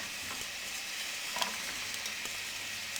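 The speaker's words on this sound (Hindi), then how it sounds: "प्याज़ों को मीडियम फ्लेम पे हल्का गुलाबी करेंगे।" Finely chopped medium-size onion frying in cooking oil in a pot over a medium flame, a steady close sizzle running throughout with faint stirring scrapes.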